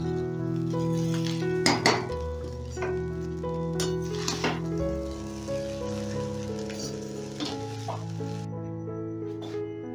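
Rice and vegetables are stirred together in a pot, a spoon scraping and clinking against the metal in uneven strokes over a faint sizzle, close by and with no voices.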